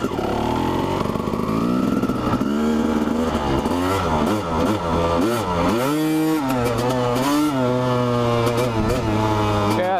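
A Honda CR250 two-stroke dirt bike revving hard on a ride over grass, its loud buzzing engine climbing and dropping in pitch through repeated throttle blips and gear changes, close and continuous for the whole stretch.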